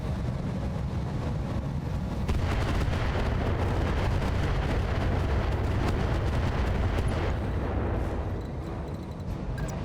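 Mech weapons in BattleTech with RogueTech open up in a sustained barrage, a loud, continuous roar of rapid booms and cracks that stays thick for most of the stretch before easing slightly at the end.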